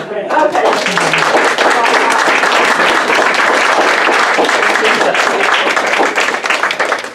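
Loud, dense audience applause after an evening talk, continuous crowd clapping held at full strength throughout with some voices mixed in, fading only at the very end.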